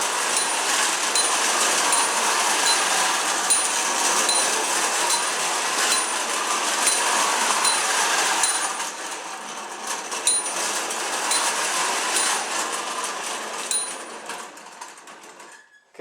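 A Marx wind-up toy train runs around a worn track with a continuous bright clattering, ticking rattle of clockwork and wheels, steady and close, fading toward the end as it slows.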